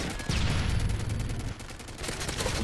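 A sentry gun in Call of Duty: Modern Warfare 3 firing rapid, continuous bursts close by, with a short dip in the fire before it resumes just as densely.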